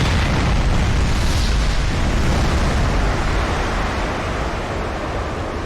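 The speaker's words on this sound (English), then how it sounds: "Charging skyward on a column of white smoke, the rocket carried its precious cargo into orbit." Rocket launch carrying the Landsat 8 satellite into orbit: a continuous loud, broadband roar with a deep rumbling low end, steady and dense, easing slightly toward the end.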